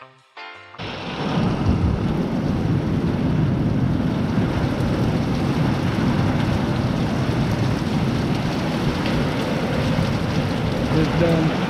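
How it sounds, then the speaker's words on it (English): Heavy rain during a hurricane, a loud, constant roaring hiss with a rumbling low end that sets in after a brief pause and keeps going without a break, with no talk over it. "Mike, it's raining."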